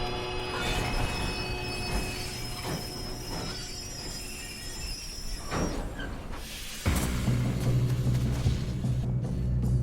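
A train in Red Dead Redemption 2 rumbling along the rails with metallic clatter and screeching wheels, a steady loud roar that surges louder near the end.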